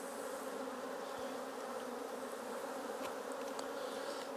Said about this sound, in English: I'm just going to shake the bees off because I don't want to crush any bees